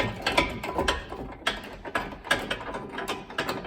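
A hand ratchet clicks in quick rhythmic strokes while tightening bolts on a replacement part for a wrecked Honda S2000, close up and fairly quiet.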